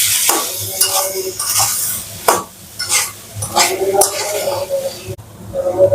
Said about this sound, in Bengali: এবার কেটে রাখা থোড়টা দিয়ে দেবো। এবার সব ভালো করে মিশিয়ে নেব।